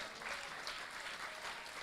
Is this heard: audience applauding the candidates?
yes